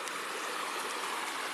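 Water flows steadily across a rural trail crossing where a stream must be waded, a continuous broad rushing hiss with no breaks and no voices.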